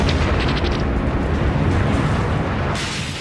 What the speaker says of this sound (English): The force of the explosion shatters all the windows within a 3-block radius.